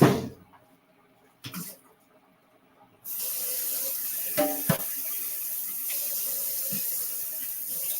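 Tap water runs steadily into a sink from about three seconds on, rinsing out a French press, with a couple of short knocks and clatters against the glass and an earlier brief splash.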